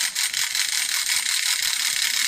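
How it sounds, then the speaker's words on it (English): A vintage Japanese wind-up toy dog in a basket sets off a small alarm-clock mechanism, a fast, dry, rattling ring that runs steadily and close up for a couple of seconds. "if you pick it up, you get an alarm clock."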